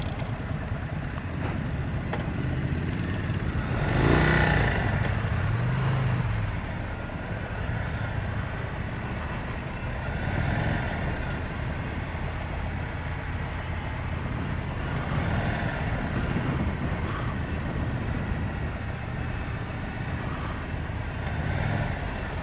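A 2023 Indian Sport Chief motorcycle engine pulls hard in sport mode, rising and falling through repeated throttle surges under steady wind and road rumble, heard from the rider's position.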